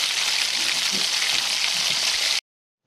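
Potatoes fry in a pan with a steady, dense sizzle that holds level and close, then cuts off abruptly near the end.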